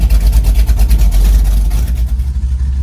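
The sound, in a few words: car engine with no exhaust, header extensions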